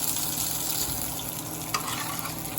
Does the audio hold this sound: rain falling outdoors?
no